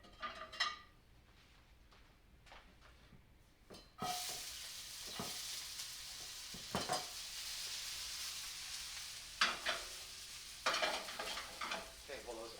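Diced onions sizzle in about three tablespoons of oil in a saute pan, a soft steady frying hiss that swells after a quiet start, with occasional utensil clinks and stirring scrapes.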